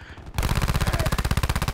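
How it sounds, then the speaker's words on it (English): Rapid automatic gunfire from a Black Ops 4 video game weapon fitted with double rapid fire, hybrid mag and stock, bursting in abruptly after a quiet moment and hammering on in a fast, steady, loud stream of shots. "It's double rapid fire hybrid mag stock."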